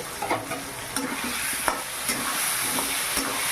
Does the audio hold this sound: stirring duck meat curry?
yes